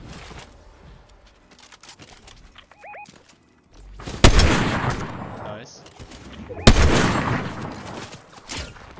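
Two loud, booming gunshots ring out in a Squad video game match, each followed by a long rumbling decay, after a stretch of quieter game ambience with faint distant sounds.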